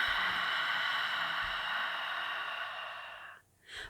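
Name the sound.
yoga controlled out-breath through the nose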